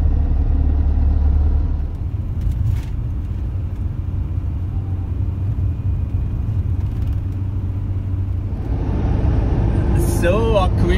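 A camper van rolls slowly downhill toward the coast, its engine a low, steady rumble with road noise, heard from inside the cabin as a person talks over it.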